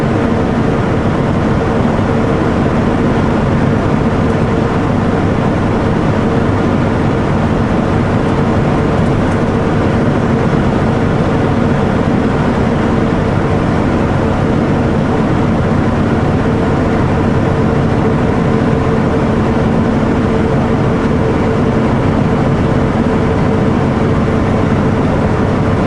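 A Kenworth W900L with a 500hp engine pulls hard up a steep grade in a low gear, giving a loud, steady, low diesel drone with constant road and cab rumble and no pauses.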